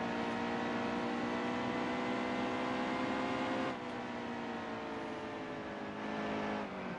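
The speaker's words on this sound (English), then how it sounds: "You guys can hear the car when I'm not on the gas." A stock car in NASCAR Heat 2, a racing video game, coasts toward a corner off the throttle. Its steady engine drone holds, then drops in pitch and eases off partway through, with no other sounds.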